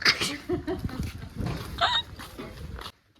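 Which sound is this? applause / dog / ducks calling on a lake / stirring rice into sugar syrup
dog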